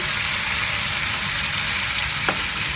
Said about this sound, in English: the sizzling has stopped because I want to add the spices